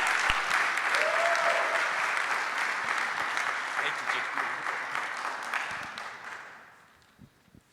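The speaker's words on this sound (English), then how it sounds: "Thanks for the nice applause." An audience at a conference event gives strong, sustained applause that gradually thins and fades out over several seconds.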